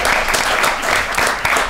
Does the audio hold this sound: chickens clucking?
no